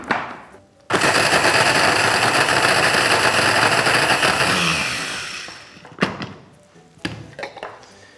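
A kitchen food processor chops pitted dates with a splash of water, a loud continuous whirring grind running for about four seconds before stopping, followed by a few brief clatters and knocks.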